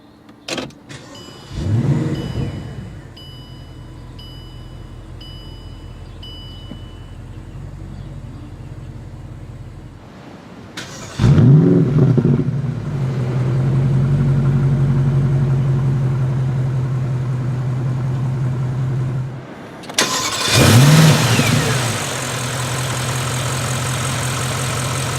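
Bentley Continental GT3R engine starting with a push button: three loud start-ups, each a sharp bark and rev that settles into a steady idle, heard alone inside the car.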